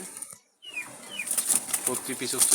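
Wild Jalali pigeons from Dhaka flap their wings in a brief burst of fluttering, a short near flurry of wingbeats with no talk over it.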